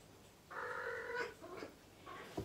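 A cat lets out a short, faint meow, then a smaller follow-up call, in a quiet room.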